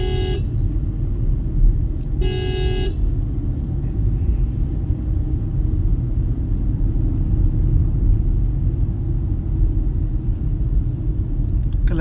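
A Tata Punch car rumbling as it drives, a steady loud low engine and road drone throughout, with two short horn toots near the start.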